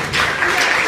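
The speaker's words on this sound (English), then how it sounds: "Give yourselves a round of applause." A crowd at a live stand-up comedy show gives a short burst of dense, lively applause.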